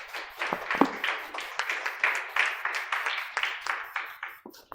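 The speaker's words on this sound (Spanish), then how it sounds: "Démosle palmas al Señor" Church congregation clapping in rhythm during a service, a steady run of sharp, moderately distant claps with slight variation in pace.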